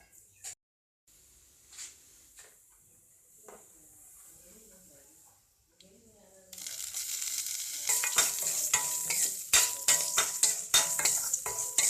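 Two small dried red chillies hit hot tempering oil after a quiet stretch, and a loud crackling sizzle starts abruptly, spitting and popping for the final few seconds.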